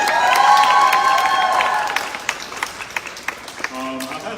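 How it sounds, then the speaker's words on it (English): Audience applause and cheering at an Austin Community College campaign event, a burst of crowd clapping that swells loudly, then thins into scattered individual claps before fading. "Everybody, round of applause."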